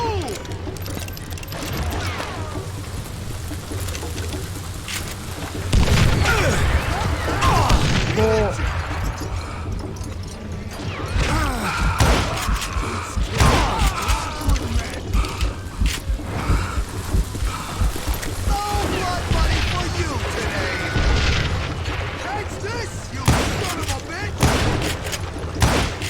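Rapid gunfire and bursts from the Call of Juarez Gunslinger video game, a dense volley of shots with booms and crashes under game music and voices for most of the stretch, loudest after the opening seconds.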